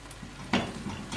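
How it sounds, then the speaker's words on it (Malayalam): Chicken keema, Kerala style, cooks down in a pan as its water reduces, with a soft steady simmer and a sudden brief scrape or clatter of stirring partway through, close and fairly quiet. "നമ്മുടെ കീമ കുറച്ച് വെള്ളമൊക്കെ വറ്റി റെഡിയായി വരുന്നുണ്ട്."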